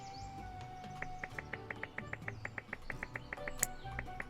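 Birds chirp in the cozy village game Littlewood, a steady run of quick, evenly spaced tweets over soft ambient background music and game tones.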